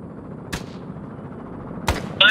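Gunfire in ARMA 3 S.O.G. Prairie Fire, two sharp, fairly distant shots about a second and a half apart, then a louder burst starting at the end, over a quiet background.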